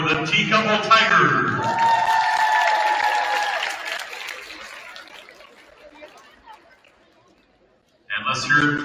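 A school gym crowd at a high school girls' basketball game cheers and applauds a team introduction, loud broadband roar with shouts for a few seconds, fading away, then an announcer's voice returns.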